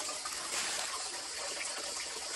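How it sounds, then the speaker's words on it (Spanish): Water pours steadily from a natural spring in the countryside during the dry summer season, a continuous close, broadband gushing and splashing with no voices over it. "Aquí está de donde se saca el agua, miren. Esto es un nacedero."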